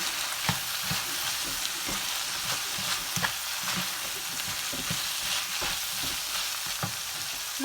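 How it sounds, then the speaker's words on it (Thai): Pork and vegetables stir-fried in a pan, a loud continuous sizzle with irregular scraping and stirring clatter from a utensil throughout, no voices. "อันนี้หมูของมันก็เริ่มสุกแล้วนะคะ มันก็จะมาใส่ผักเลยนะคะ ใส่ผักลงไปเลย"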